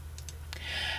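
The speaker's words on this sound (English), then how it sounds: "And I then right mouse click and select lock" A computer mouse clicked at a desk, a few quick, faint, close clicks in under a second with no talking.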